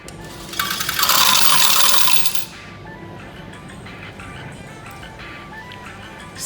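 Coins clatter out of a change machine at a coin laundry in Japan, a bright jingling cascade lasting about two seconds, then a low mechanical hum settles in, with no talk.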